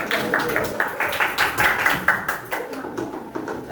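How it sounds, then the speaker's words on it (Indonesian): Scattered handclapping from a school audience at an Indonesian classroom session on biodiversity, a light, uneven patter of claps with faint voices mixed in, fairly close and modest in volume. "Tepuk tangan dulu buat pemain cepat."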